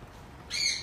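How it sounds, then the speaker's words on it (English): A Derbyan parakeet at a parrot shop in Dallas, Texas gives one short, harsh squawk that rises in pitch and fades quickly. It comes after a quiet moment, sounds a little distant, and is heard alone. "I hear that Derbyan still talking."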